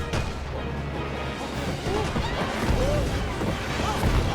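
Explosions from Bowser's attacks in Super Mario Odyssey, dense booms and crashes layered over game music and effects, continuous and loud throughout.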